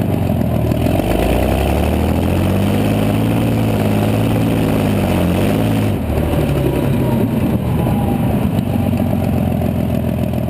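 A Packard Royal car fitted with a huge PT boat engine running loud and close, a deep throbbing rumble with a rising and falling rev partway through, continuous.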